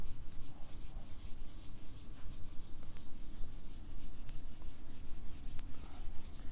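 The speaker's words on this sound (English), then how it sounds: "Okay, so I can erase this all." Steady, close rubbing of an eraser clearing handwritten maths work from a writing surface, a continuous soft scrubbing with no pauses or voices.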